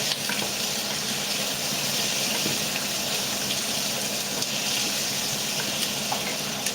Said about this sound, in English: Now you put in your stock.